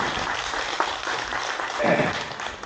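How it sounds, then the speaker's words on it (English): Applause from a book club audience welcoming a guest speaker, a soft, steady wash of clapping heard from a distance throughout. "please join me giving a big round of applause for our speaker today, Daniel Chen."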